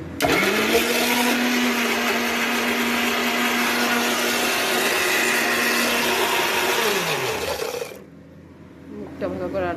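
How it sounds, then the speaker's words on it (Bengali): A kitchen mixer grinder whirs loudly and steadily for about eight seconds while grinding a paste, its motor pitch holding level then dropping as it switches off, followed by quieter background sound. "এবার এই যে ঢাকনা আটকে দিলাম, আটকে দিয়ে এবার মিক্সারে বসাবো।"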